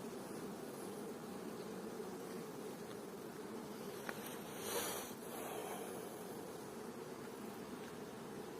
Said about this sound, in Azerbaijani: Fövqəladə arı.